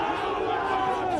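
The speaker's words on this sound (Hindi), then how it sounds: "भीड़ का एक पूरा हुजूम नारेबाजी करते हुए आगे बढ़ रहा है।" A dense crowd of protesting farmers marches toward Delhi while chanting slogans, a loud, continuous wall of massed voices raised together at close range.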